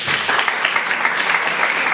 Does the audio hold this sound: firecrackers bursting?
no